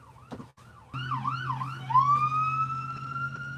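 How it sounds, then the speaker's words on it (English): Several emergency sirens, including fire trucks, wail and yelp across the street, rising and falling before settling into a steady loud tone, with distant traffic rumble underneath. "But yeesh, lots of sirens."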